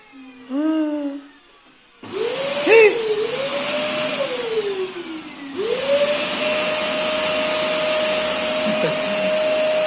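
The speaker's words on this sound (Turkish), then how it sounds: "Mehmet Ender süpürmeye gidiyor." A vacuum cleaner starts with a rising whine after a brief pause, then runs loudly and steadily with a high motor tone.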